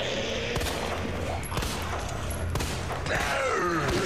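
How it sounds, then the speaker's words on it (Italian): Pistol gunfire in the video game Resident Evil 2, heard as a dense, loud series of shots and impacts over a constant layer of game noise and music, with a sharp burst near the middle. "Ti sparo con una pistolazza."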